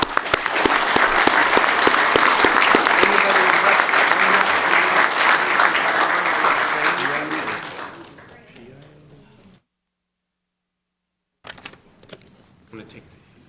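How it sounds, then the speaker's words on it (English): Loud, dense applause at a city council meeting in Sacramento runs for about seven seconds and then fades out. After a short silence, a few soft taps and handling noises follow. "Big round of applause, if you will,"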